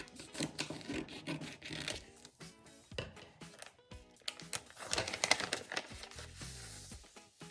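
A handmade paper blind bag package with a Frozen theme is torn and opened up close, giving bursts of crinkling, rustling and rubbing paper with short pauses and no talk.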